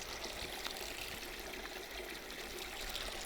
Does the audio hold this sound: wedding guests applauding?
no